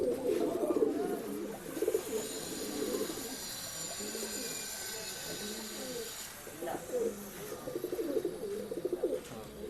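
Pigeons at a bird sale in Bangalore give soft, repeated throaty coos, nearby and fairly faint. People talk over the cooing throughout.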